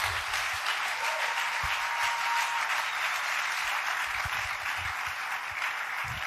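Congregation clapping together at a church worship teaching, a steady, dense wash of applause lasting throughout, fairly even in loudness with no talk over it.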